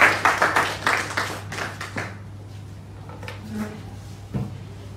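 Audience applause at an opening-remarks event, a burst of rhythmic clapping that starts strong and fades within two seconds into quiet room noise with a few faint scattered sounds.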